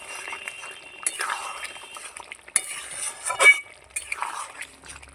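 A spoon scrapes and stirs chickpea dal cooked with ash gourd in a pan, irregular clinks and scraping strokes over a faint sizzle, close and fairly quiet.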